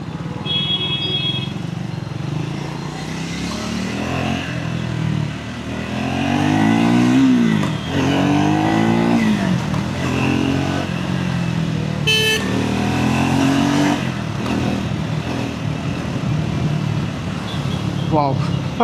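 Triumph Scrambler 400X motorcycle ridden through city traffic, its engine rising and falling in pitch as it accelerates and slows, with surrounding traffic, a brief car horn toot and a rider talking over the engine noise.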